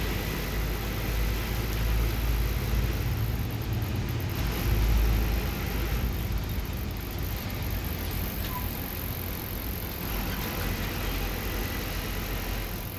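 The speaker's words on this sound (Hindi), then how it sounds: "इस बस में आवाज़ बहुत आ रही, खड़खड़ खड़खड़" An Uttarakhand Roadways bus drives on a mountain road toward Pauri Garhwal, heard from inside with a steady low engine drone and continuous rattling of the body and fittings, and a louder bump partway through.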